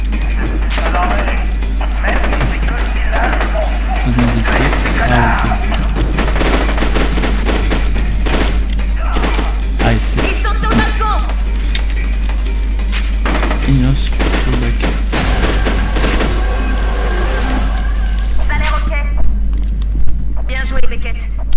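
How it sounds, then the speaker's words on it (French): Burst-fire gunfire in the shooter F.E.A.R. 2, with rapid loud volleys of shots and crashes recurring across the scene and someone talking over the game action. "Ah oui, tir en rafale."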